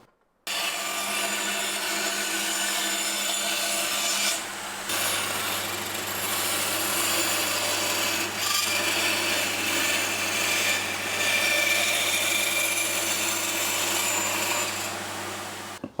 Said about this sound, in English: So I'm going to take it over to the bandsaw and run it around and trim it as close as I can.